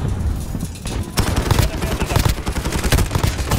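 A PP-19 Bizon submachine gun fires in a video game, with dense, rapid bursts that swell into loud continuous gunfire after a brief lull.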